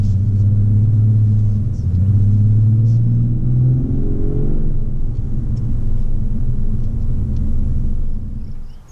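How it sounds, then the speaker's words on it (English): Exhaust note of a 2019 Toyota Avalon in Sport Plus mode, a deep steady rumble that rises in pitch as the engine revs, then settles back to a lower drone with no talk. "you can definitely tell all the modes change the exhaust sound"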